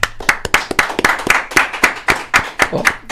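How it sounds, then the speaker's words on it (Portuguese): Podcast hosts clap in quick rhythmic bursts to celebrate reaching one million, the sharp hand claps close and loud over a brief murmur of voices. "Palmas para um milhão."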